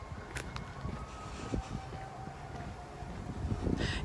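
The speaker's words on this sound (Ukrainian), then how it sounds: "Вітер такий піднявся сьогодні, страшне." Strong wind rushes and buffets the microphone outdoors on an evening park walk, a continuous low roar with gusts swelling toward the end.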